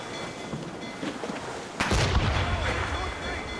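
Warship cannon volleys in Assassin's Creed Rogue, a deep booming blast bursting out mid-clip over a rumbling, rain-like wash of battle noise.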